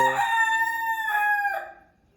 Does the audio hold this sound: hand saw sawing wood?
no